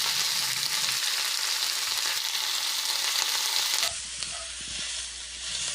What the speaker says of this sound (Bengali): তেলের মধ্যে আলু মূলোগুলো দিয়ে একটু নুন হলুদ দিয়ে ভেজে